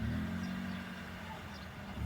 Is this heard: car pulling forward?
yes